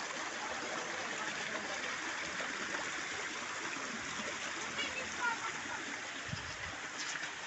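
Water runs and trickles steadily at a hidden spring, a soft, even rush with no break, heard from nearby and fairly quiet throughout.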